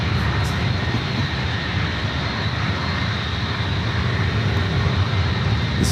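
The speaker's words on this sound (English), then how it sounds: "This United 757-300 looks like it's heading to Chicago O'Hare, flight 1225." A United Boeing 757-300 jet airliner at San Francisco airport makes a steady, loud engine roar that holds without a break throughout.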